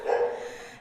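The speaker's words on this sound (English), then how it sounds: "There's dogs in the house, too." A dog in the house at a punk livestream fundraiser gives a single drawn-out, mid-pitched bark or yelp that fades over under a second, heard fairly close with no talk over it.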